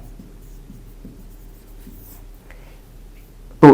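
Marker or chalk scratches across a board in short, quiet strokes while a math solution on polynomials is finished, ending in one sharp louder knock.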